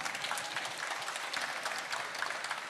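A crowd applauds students departing to pursue study abroad with financing, even, continuous clapping at moderate volume from a fair-sized audience throughout.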